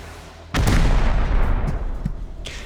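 A high-velocity rocket launched in the survival game Rust, a sudden loud blast followed by a rumbling roar that fades, with a few smaller thuds after it.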